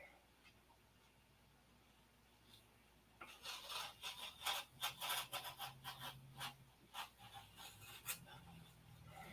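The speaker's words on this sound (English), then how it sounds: "I'm going to take this number 22 and whittle a 1/4 inch off of this" A number 22 blade whittles a quarter inch off wood sheeting on a 1/2A Cobra model wing. After a quiet start, close rasping strokes follow in a quick irregular run.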